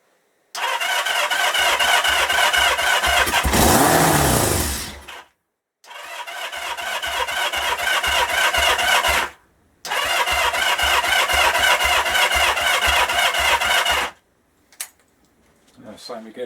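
The engine of a 1977 Kawasaki KZ650 B1 motorcycle is started three times, each time catching and running briefly with a rev before cutting out, heard up close and loud.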